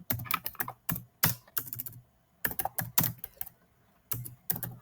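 Computer keyboard typing in quick irregular clusters of crisp, close key clicks with short pauses between bursts, no talking.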